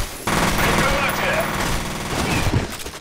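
Rapid bursts of machine gun fire in the video game F.E.A.R. rattle continuously for a few seconds, dense and loud, with voices underneath the shooting.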